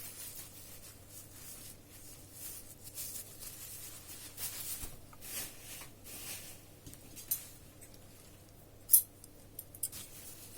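Scissors snipping through macrame cord while making a small rug, giving a few sharp close cuts near the end over a faint background hum.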